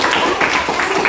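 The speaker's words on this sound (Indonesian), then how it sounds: "Kita langsung tepuk tangan dulu untuk kalian semua." A classroom of students in Bandung claps for classmates who have just presented, a short, quick patter of hands, close and fairly loud, with a little voice mixed in.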